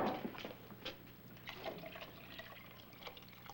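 Stump water poured into a container, soft faint trickling and dripping splashes in irregular bursts, with no speech.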